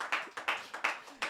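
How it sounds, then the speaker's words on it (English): An audience claps in a few distinct, spaced bursts, sharp and fairly close, forming a short, sparse round of applause with no talking over it. "Can we just clap?"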